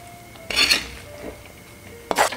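Vegetables being stirred with grated coconut mix in a cooking pot for an Onam sadya dish, giving two short bursts of utensil scraping and clinking against the pot separated by a quiet pause.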